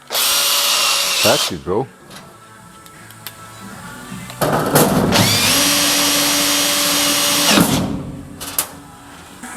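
A cordless power drill runs in loud bursts while driving small cap screws into a custom floor, its motor whine rising and stopping between runs, and someone speaks briefly between them.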